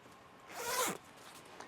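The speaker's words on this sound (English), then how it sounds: "It's zippered and has the cuffs, and I'll show you zippered." A single quick zip as an A2 flight jacket's zipper is pulled up, a short close rasp lasting under half a second in a quiet room.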